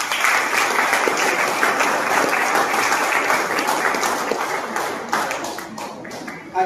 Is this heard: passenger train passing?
no